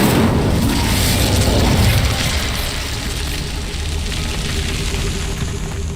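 A fiery Incendio spell blast booms out in Hogwarts Legacy, a loud, dense rumbling burst that swells over the first two seconds, then settles into a sustained roaring crackle.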